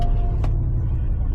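A Porsche Cayenne engine idling loudly right after being started, a deep, steady low rumble close by, with a brief broadband burst near the start. No speech is heard.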